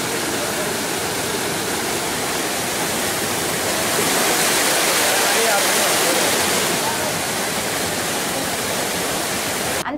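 Gayatri waterfall, a tourist spot, flowing: a dense, steady roar of falling water that fills the whole stretch, loud and unbroken, with no voices standing out.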